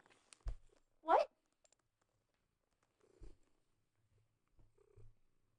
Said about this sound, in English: Got a little purring cat.